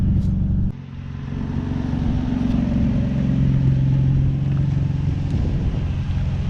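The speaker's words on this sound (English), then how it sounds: "It's a Nissan 350Z." Nissan 350Z engine on a test drive, after a new clutch, flywheel and CD009 transmission, with a steady loud drone that rises in pitch as the revs climb, following a brief dip near the start.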